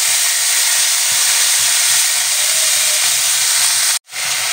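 Drumstick flowers frying in a pan, a loud continuous hiss and sizzle of hot oil with a faint rhythmic low bubbling beneath, broken by one brief sharp dropout near the end.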